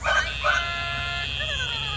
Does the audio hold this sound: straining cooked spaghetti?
no